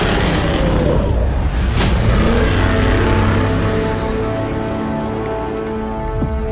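Baja 1000 trophy truck engine roaring loudly off the start line, a sustained dense rumble with a rising rev near the two-second mark, mixed with crowd and outdoor noise throughout.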